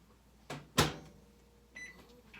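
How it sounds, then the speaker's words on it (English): A microwave oven in a home kitchen: a soft knock, a sharp door slam, then a few short electronic keypad beeps, close and fairly quiet with no talk. "This goes into the microwave for a full minute."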